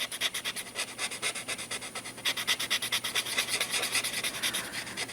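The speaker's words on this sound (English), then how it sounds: "Sometimes these tortillions really are noisy, and sometimes they're not that noisy" A tortillion blending stick rubs back and forth on drawing paper, a close, steady scratchy rasp in quick repeated strokes that grows a little stronger midway, with no voices.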